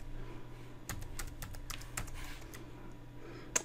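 Keys clatter in a quick burst of typing on a computer keyboard while a command is entered on a Cisco network switch, the taps close and crisp, ending with a single firmer keystroke like Enter.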